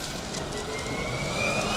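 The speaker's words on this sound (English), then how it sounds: "from the 62 car we are hearing a train horn-like hum as the brakes are being applied" A Formula Student race car at an autocross event gives off a sustained horn-like tonal hum under braking, a steady drone that rises slightly in pitch over a loud engine and track noise background.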